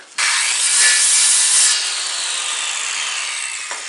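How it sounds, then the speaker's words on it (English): A Woodmizer LT15 sawmill blade slices through a piece of wood, a loud, steady bright rasping cut that starts abruptly and runs the whole stretch, easing slightly toward the end with no talk. "Make a cut into a piece of wood like this, and then you measure it."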